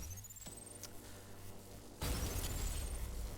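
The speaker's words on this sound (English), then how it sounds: "The rail cannon." A rail cannon fires in the fast-paced shooter game ULTRAKILL, a sudden heavy blast that surges in partway through and holds as a dense, roaring rumble over a steady electronic hum.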